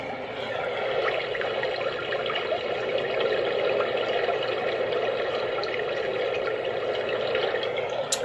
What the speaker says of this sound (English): So like if we did the brook and the ocean.